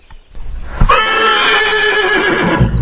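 A horse neighs loudly and close, one long quavering whinny of about two seconds after a brief thud, with no voices.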